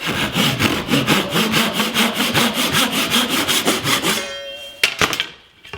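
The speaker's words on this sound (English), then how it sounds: "I made this jig so I can make nice straight cuts on the molding" A handsaw cuts cherry wood frame molding held in a cutting jig, making steady rhythmic back-and-forth rasping strokes, loud and close. The sawing stops near the end, followed by a couple of knocks.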